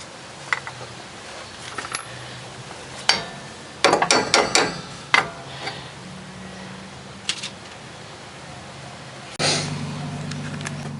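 Metal clanks, taps and scraping knocks from wiggling and prying a rear suspension arm off a 2000 Toyota Corolla, irregular close bursts with quieter gaps and a brief low hum near the end.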